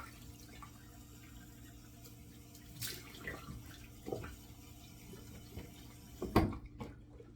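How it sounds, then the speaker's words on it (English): Cold water runs from a tap into a bathroom sink during a wet shave with a Merkur Futur razor, a faint steady trickle broken by a few soft splashes and a louder splash near the end. "Let me get 2 splashes of cold water to close up those pores"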